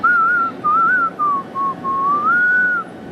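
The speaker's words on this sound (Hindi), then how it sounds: "सैफ अपना सीटी बजा रहा है।" Someone whistles a wavering, sliding tune in one long phrase broken into several short held notes, clear and fairly loud against a quiet background.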